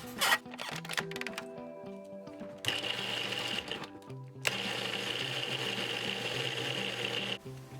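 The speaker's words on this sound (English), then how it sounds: "In a food processor, add in your green onions. And pulse until it reaches your desired consistency." A food processor pulsing green onions for tabbouleh, with two sustained whirring motor runs separated by short pauses, preceded by brief stop-start bursts.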